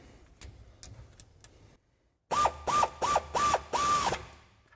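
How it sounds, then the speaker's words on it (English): A ratchet wrench with a 12mm socket and extension tightens a bolt during a suspension lift install on a 2022-2024 Toyota Tundra, five close, loud rapid bursts of clicking after some lighter taps and a brief pause. "switch back to our 12mm socket with a little extension to tighten that one down"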